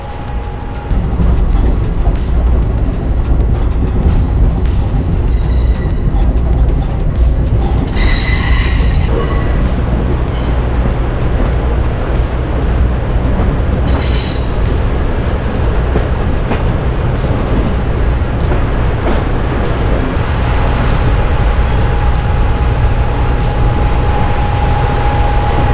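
A train rolls steadily along a loop track near Cloudland Canyon, its railcars and wheels keeping up a continuous loud rumble, with brief wheel squeals and a faint steady whine late on.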